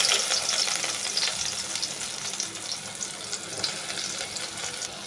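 Onions frying in hot oil for tilapia fish curry, a steady close sizzle with light crackles and faint stirring, loudest at the start and easing slightly after.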